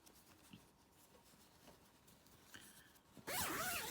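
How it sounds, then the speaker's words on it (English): A dress zipper being undone on a Vogue V9075 garment: quiet rustling of fabric, then a sudden loud, close, rasping zip that runs steadily to the end. "So then you can undo your zipper again."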